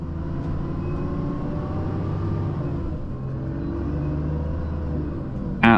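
A bus on a southbound route through North Wales, crossing the River Conwy near Fairy Glen, hums with a steady low engine rumble and continuous road noise, ending with a brief sharp click.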